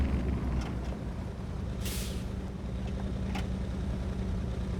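A heavy 6x6 truck engine in the game SnowRunner, a CrazyS MK63 mod, rumbles steadily at low pitch, broken by one short sharp hiss of released air midway and a fainter one later.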